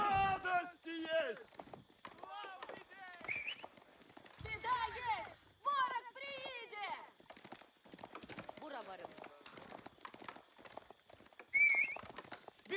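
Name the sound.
horses galloping in Age of Empires 4 video game battle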